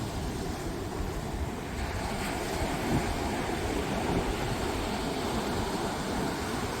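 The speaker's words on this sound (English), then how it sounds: "bring our attention to the sound of the waves and just focus on the sound" Ocean waves wash onto the shore in a continuous broadband roar, steady and moderately loud, with some wind rumble and no voices.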